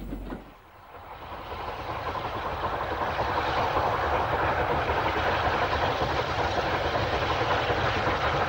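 A British Railways steam Pacific locomotive works hard near Dorchester, giving a loud, steady roar that swells after a brief dip at the start and then holds continuously close by, with no voices.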